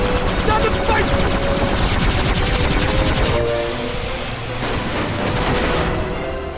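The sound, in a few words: Dr. Cid's Gatling gun firing, Final Fantasy XII video game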